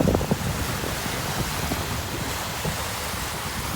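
The Angara wind blows steadily over Lake Baikal, a dense roar of wind and lapping waves with microphone buffeting throughout, heard alone with no voices.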